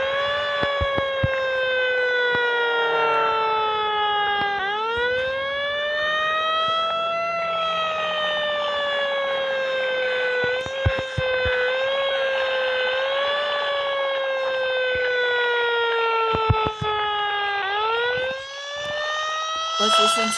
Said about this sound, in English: this fire engine and its siren is really loud.